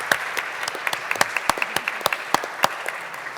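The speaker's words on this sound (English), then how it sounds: "Please, everyone, give them a round of applause" An audience at an OECD special meeting claps, sparse but steady applause with distinct individual hand claps close by, continuing for a few seconds.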